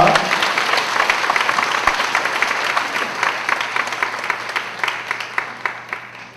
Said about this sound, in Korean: 뜨거운 박수 다시 한번 부탁합니다